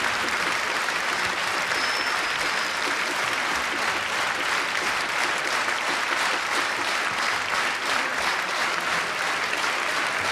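Loud, sustained applause from a concert audience at a jubilee concert, a dense, even wash of clapping hands that fills the whole stretch, close and unbroken.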